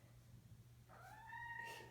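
A cat meows close by, indoors behind a closed door, giving one drawn-out rising cry and then a second meow over a low steady hum.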